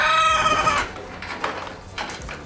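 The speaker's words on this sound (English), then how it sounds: "Those chickens." Several chickens cluck in a short burst at a farm where a goat pen gate is being installed, with a few spaced clucks and squawks at moderate distance.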